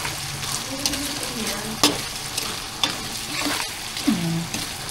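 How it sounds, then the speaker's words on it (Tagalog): Hot cooking oil in a pan pops and sizzles with a steady, close frying hiss, broken by several sharp crackling bursts spaced a second or so apart. "Habang nakatambay po tayo doon, may narinig po tayong putukan."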